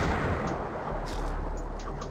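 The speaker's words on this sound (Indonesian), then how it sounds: "Ikannya meledak." A dense, rumbling explosion of a fish in the video game Feeding Frenzy, with a sustained low boom, followed by a few faint crackling bursts as it fades.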